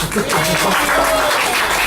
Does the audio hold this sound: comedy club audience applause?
yes